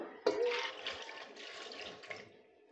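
Water poured into a pot for a Melar-style ghoogni gives a steady rushing splash for about two seconds, moderately quiet and close, then tapers off.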